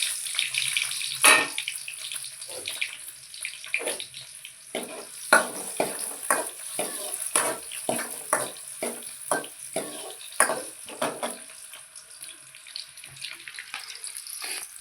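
Onion fries in a pan for an okra curry with a bright, hissing sizzle and scattered crackles and pops, fairly close and without talk.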